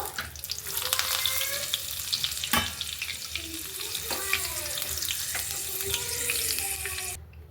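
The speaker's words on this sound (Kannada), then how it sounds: "ಪಕೋಡಗೆ ಈ ತರ ಕರ್ಬೇವಿನ ಸೊಪ್ಪು ಬೆಳ್ಳುಳ್ಳಿ ಕರ್ದ್ಬಿಟ್ಟು ಹಾಕಿದ್ರೆ ತುಂಬಾ ಸೂಪರ್ ಆಗಿರುತ್ತೆ" Curry leaves and garlic sizzle and crackle in hot oil for pakoda, a steady frying hiss with stirring clatter and a sharp spatula knock, close and continuous without talk.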